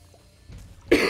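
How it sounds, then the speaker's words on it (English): A single sharp, loud human cough bursts out near the end after a few quieter throat sounds, with no talk around it. "Really apologize about the coughing."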